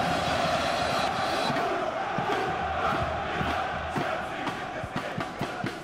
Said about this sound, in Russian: Гонят болельщики свою команду вперед.